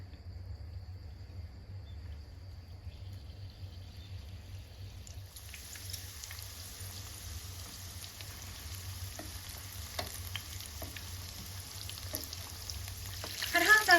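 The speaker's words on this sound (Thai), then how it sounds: "พอน้ำมันร้อนนะคะ เราก็ใส่แป้งเกี๊ยวของเราลงไปทอดได้เลยค่ะ" Banana wontons frying in hot oil give a faint, even sizzle that swells after a quiet start over a low hum, with sparse small pops and crackles and a louder rustle at the very end.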